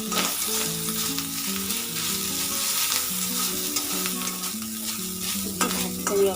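Sliced onions frying in a pan with ginger and garlic, a steady close sizzle and crackle with occasional stirring scrapes, no voices.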